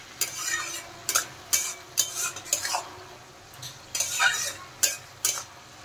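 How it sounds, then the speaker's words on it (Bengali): A spoon stirring bottle gourd and lentil dumplings in a pan, scraping in quick uneven strokes against the metal over a faint sizzle, close and without talk. "এখন আমি নেড়ে চেড়ে ভালোভাবে মিশিয়ে দেব বড়িগুলো।"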